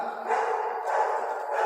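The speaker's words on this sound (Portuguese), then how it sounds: "enquanto o cachorro late, nós vamos respondendo" A dog barks nearby in a steady stream of overlapping woofs, fairly loud and continuous for a moment with no talk over it.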